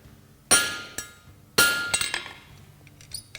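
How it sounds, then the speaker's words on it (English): A sledgehammer strikes hot zirconium on an anvil during forging, with two heavy ringing blows and a few lighter metallic taps and clinks between them, loud and close, with no talk. "I'm going to invite Martin in with the sledgehammer here to"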